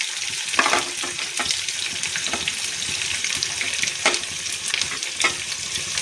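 Cumin seeds and chopped onions sizzle and crackle in hot oil for a tempering, a steady close frying hiss with sharp pops and stirring scrapes, no voices.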